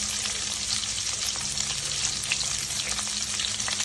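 Chopped onions and green chilies sizzle steadily in hot oil in a pan while cooking poha, a close, continuous crackling fry with light stirring.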